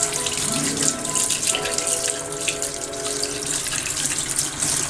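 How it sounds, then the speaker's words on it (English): Water runs steadily from a kitchen tap, splashing into a sink during hand washing, close and continuous with slight variations in the flow. "between doing this, I wash my hands again"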